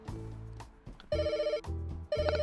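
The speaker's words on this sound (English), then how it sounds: "I need to take the phone call." A telephone rings in a pet hotel video game, with loud repeated electronic trills in bursts and short gaps between them, set over steady game background sound.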